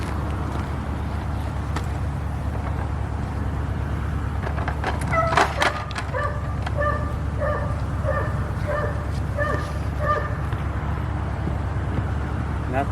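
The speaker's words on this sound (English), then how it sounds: "Nothing like a loud dog." A loud dog barks repeatedly in short bursts nearby, outdoors during a honey bee removal from a fallen tree, over steady background noise and rustling.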